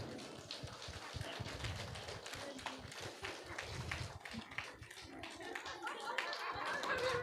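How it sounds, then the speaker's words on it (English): A workshop audience stands and claps together, giving a dense, uneven patter of many hands at moderate distance. Murmuring voices sit faintly underneath. "Can we all clap for ourselves?"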